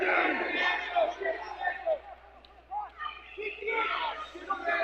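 Crowd at a Lawrence High wrestling dual meet cheering and shouting in the gym, a dense rumble of many voices swelling and fading, moderately distant.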